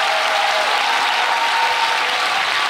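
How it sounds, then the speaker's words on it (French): A church congregation applauding during a worship service: dense, even clapping that holds steady from start to finish, with a faint sustained tone underneath. "est-ce que tu peux donner une acclamation au Dieu d'Abraham ce matin?"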